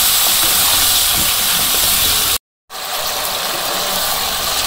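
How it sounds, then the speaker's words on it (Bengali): Vegetables sautéing with salt, turmeric and dried chilli in a pan over a village-style cooking fire, a loud steady sizzling hiss that cuts out briefly midway and then resumes. "এখন সবজিগুলো ভালো করে কষিয়ে নিই।"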